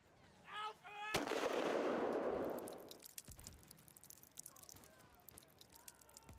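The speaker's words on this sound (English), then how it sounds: "I begin to fire into the incoming charge." A single sharp rifle shot cracks out, followed by a long rushing burst of noise and scattered battle sounds from a First World War trench charge, fairly faint and distant behind game ambience.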